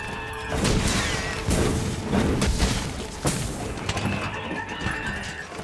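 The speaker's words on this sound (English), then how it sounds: "I'm just gonna keep spinning my axe." Repeated whooshing axe swings with dull impacts and thuds from spinning attacks against Gajalaka in Monster Hunter: World, a steady flurry of blows under game noise and effects.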